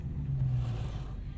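A 2020 Dodge Charger 392 Scat Pack Widebody muscle car engine burbles with a deep, steady low rumble at close range, holding a throaty idle-like tone throughout.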